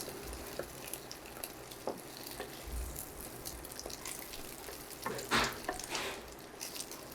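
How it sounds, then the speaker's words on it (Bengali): Soft sizzling of an egg frying in a pan, fairly quiet, with scattered clicks and a slightly louder crackling burst near the end. "ডিমটাকে হালকা একটু ভেজে নিব, অত শক্ত করে ভাজতে হবে না।"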